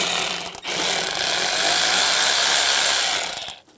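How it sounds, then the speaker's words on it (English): A loud, continuous mechanical rattle of a power tool driving an 8mm socket loosens a worm clamp at the throttle body of a 2015-2020 GMC Yukon XL, running for about three seconds with no talking. "We're going to loosen up this worm clamp right here using an 8mm socket."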